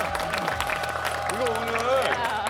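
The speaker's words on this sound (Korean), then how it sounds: "자, 일단 박수를 맞아요." Studio audience applause on a Korean variety talk show, a steady broadband patter that runs the whole time beneath a voice speaking over it.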